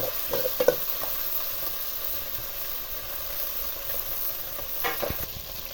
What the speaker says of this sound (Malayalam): നമ്മുടെ മട്ടൻ ഇപ്പം ഫ്രൈ ആയിക്കൊണ്ടിരിക്കുകയാണ്